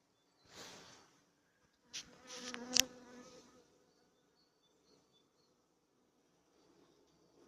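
Honey bees buzz close by at an apiary hive in February in a few short bursts, with brief handling clatter in between, then fade to near silence.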